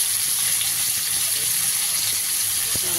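Prawns fry in hot oil for a bottle gourd and prawn curry, giving a steady, close sizzling hiss with occasional small pops and no speech.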